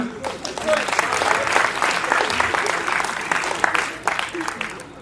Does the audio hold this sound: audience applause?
yes